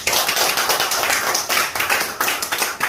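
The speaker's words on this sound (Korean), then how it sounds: "박수를 치려면 다 쳐야 돼요." A church congregation claps together in a fast, loud, rhythmic pattern of close, crisp hand claps that fills the room without pause, with no talk.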